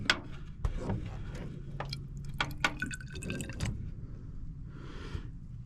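Water drained from an aircraft fuel sample is dumped out during a preflight check, giving a short spatter of drips and splashes with a few sharp taps, close by and without talk.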